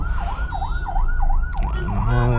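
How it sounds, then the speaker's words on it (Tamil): An ambulance siren wails in a steady rising-and-falling cycle, loud and close, amid city traffic near a temple signal junction, with engine rumble and a horn blast near the end. "நான் ஆம்புலன்ஸ்க்கு எப்படியாவது வழி ஒன்றுன்னு பார்க்குறேன், ரொம்ப டிஃபிகல்ட்டாக இருக்குது."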